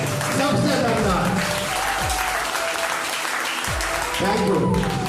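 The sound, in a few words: audience applauding the Disha trainees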